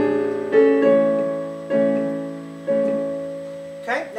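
Piano playing a short section of Chopin's Prelude in A, repeated chords struck three times in the middle register, each ringing and decaying, close and clear, with a brief voice at the very end.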